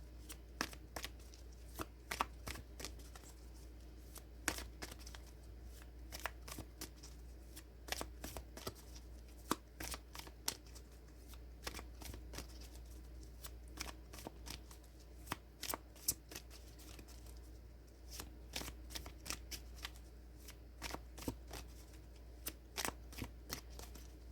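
Tarot cards being shuffled by hand, quick crisp riffles and soft slaps repeating in an irregular rhythm, close but quiet over faint room hum, with no one talking.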